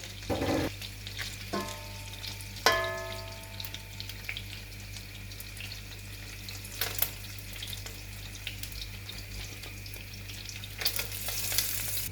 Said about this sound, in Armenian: կոտլետները տեղավորեցի թավայի մեջ, կափարիչը ծածկում եմ